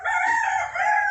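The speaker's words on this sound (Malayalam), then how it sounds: "നല്ല വലിയ പൂവൻ കോഴികളൊക്കെ നടക്കുന്നുണ്ട്" A single large rooster on a farm crows close by, one loud, drawn-out call lasting about a second.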